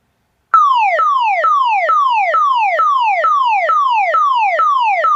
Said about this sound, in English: Security siren synth.